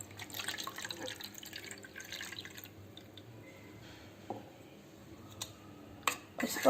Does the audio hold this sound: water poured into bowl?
yes